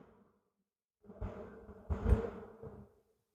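A steady, close swarm of honeybees at a weak, sparsely populated hive drones and hums for about two seconds after a short quiet start, swelling louder near the end before fading out.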